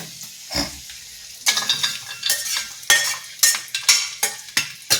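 A metal spoon scrapes and clinks against a frying pan while fried food for Sankranti pongal is scooped into a bowl, in a series of close, irregular scraping strokes with short pauses, no talking.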